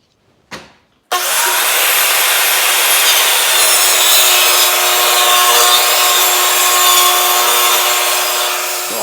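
A saw cuts a 1x8 wood board at a 45-degree angle. A brief knock comes first, then a loud, continuous, steady grinding cut runs for about eight seconds, close up and with no talking.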